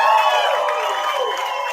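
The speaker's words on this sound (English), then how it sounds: "I predicted that cheer" A crowd cheering and whooping at a live talk-show taping, a broad sustained roar that stays loud and steady, then eases slightly toward the end.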